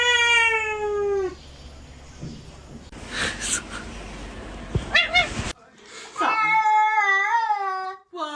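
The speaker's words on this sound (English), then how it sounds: "Fatso, want some kitty cat treats?" Several pets, a cat among them, make sounds at close range: drawn-out meow-like cries with a rising and falling pitch, some short yips and whimpers in between, and a voice speaking.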